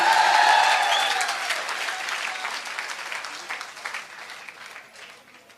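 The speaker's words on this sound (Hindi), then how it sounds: "एक बार जोरदार ताली होनी चाहिए" Audience applause at a stage event, loud at the start and gradually thinning and fading over several seconds, with no talk over it.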